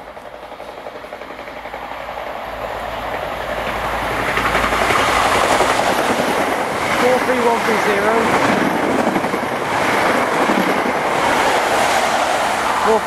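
An HST high-speed train passes by, rising from a quiet approach to a loud sustained roar with rhythmic clatter of wheels over the rails for several seconds.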